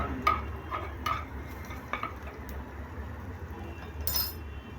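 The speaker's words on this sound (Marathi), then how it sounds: "मिरची थोडी परतून घेऊ आपण याच्यामध्ये" Green chilies frying and being stirred in a pan for a tempering, with a few scattered clinks of a spoon against the metal over a low, steady sizzle.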